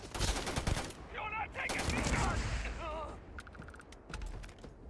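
Gunfire from a hard-recoiling gun in the Starfield video game rattles in quick bursts, mixed with game sounds and tonal effects, while someone talks over the shots.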